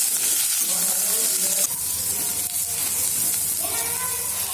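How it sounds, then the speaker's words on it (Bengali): Lemon leaves, chopped green chili and onion frying in hot oil, a continuous loud sizzle with scraping stirring strokes throughout, close up. "এখন এই লেবু পাতা, কাঁচামরিচ কুচি, পেঁয়াজ কুচি ভালো করে মিক্স করুম আর অল্প সময় ভাজুম"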